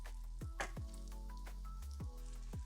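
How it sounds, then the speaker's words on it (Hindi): Raw banana pieces frying in hot oil over a medium-high flame, a soft continuous sizzle with repeated sharp pops and crackles at uneven intervals, quiet and close. "ये देखिए, ये फ्राई होने स्टार्ट हो गए हैं।"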